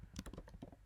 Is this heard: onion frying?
no